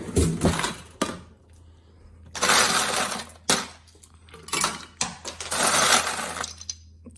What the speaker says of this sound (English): drop some ice on the floor,